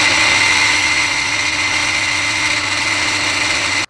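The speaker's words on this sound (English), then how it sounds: "So that's my two holes drilled." A Dremel rotary tool drills a hole in wood, a steady high-pitched motor whine with grinding noise holding loud and even for nearly four seconds before cutting off abruptly.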